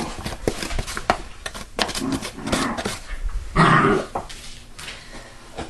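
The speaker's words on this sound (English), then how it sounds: "showing the dogs again. Because they're playing. They're getting noisy." Dogs playing in a home kitchen, with rough growls, snorts and scuffling bursts close by, one louder growling burst near the end, no speech.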